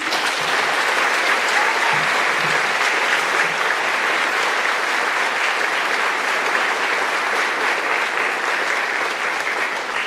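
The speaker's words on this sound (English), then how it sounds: "please join me in a round of applause for Poolee Cody D." Sustained audience applause at a senior awards night for a new Marine poolee, a dense, even roar of many hands clapping that holds steady and loud for the full ten seconds.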